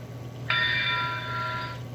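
A bell effect from an American Flyer digital sound unit on a model train gives a single bright, ringing tone that holds for just over a second against a low background hum.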